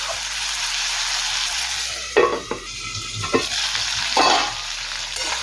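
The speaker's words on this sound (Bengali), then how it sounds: "আবারও আলুর সাথে পটলগুলো কিছুক্ষণ সময় নিয়ে ভাজা ভাজা করে নেব" Potatoes and pointed gourd sizzle steadily in a pan, with a few clear scraping stirs of a spatula breaking through the constant close frying hiss; no voices.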